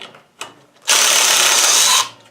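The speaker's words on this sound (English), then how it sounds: "I have a drill driver that works really good for taking out bolts" A few faint clicks, then a loud drill driver whirs steadily for about a second loosening bolts on a lawn tractor before winding down.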